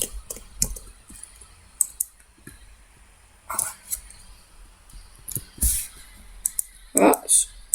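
Quick, irregular clicks of fingers tapping a computer keyboard during PC gameplay, in scattered bursts with brief pauses and a denser flurry near the end, close and fairly quiet.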